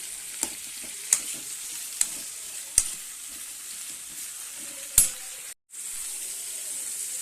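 Onions, green chillies and curry leaves fry in oil in a home kitchen for a fish curry, a soft, steady sizzle with a few sharp clicks of a spoon against the pan.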